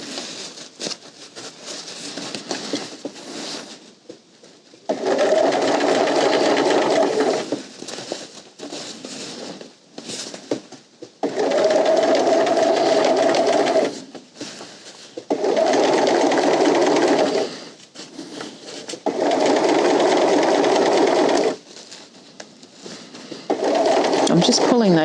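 Sewing machine stitching around the edge of a tote bag facing, running in several loud bursts of steady whirring separated by pauses, with a person talking between and over the runs.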